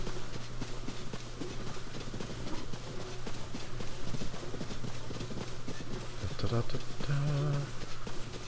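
Rhythmic hoofbeats of wild horses galloping in the video game Tears of the Kingdom over a steady background hum, with a voice speaking briefly partway through.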